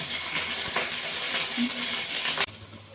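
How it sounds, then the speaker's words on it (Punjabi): Pieces of paneer fry lightly in ghee, giving a steady, close sizzling hiss with small crackles for about two and a half seconds. The hiss cuts off abruptly into near silence. "ਇਹਨੂੰ ਨਾ ਜੀ ਆਪਾਂ ਥੋੜਾ ਜਿਹਾ ਘਿਓ ਦੇ ਵਿੱਚ ਸੇਕ ਲਵਾਵਾਂਗੇ ਜੀ ਹਲਕਾ ਜਿਹਾ"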